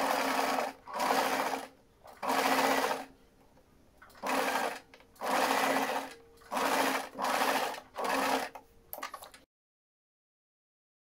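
Domestic sewing machine stitching a small, dense decorative pattern, running in about seven short whirring bursts with brief pauses between them, close and clear, then stopping into silence.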